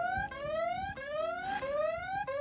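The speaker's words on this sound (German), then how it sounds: "Hilfreich und nützlich ist es ja allemal, denn geht die Alarmanlage los" A Nova Motors Inoa electric scooter's alarm siren wails loudly in repeating rising sweeps, several cycles in quick succession, close by with a faint background.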